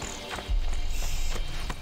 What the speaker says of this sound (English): Even horses come along for the ride.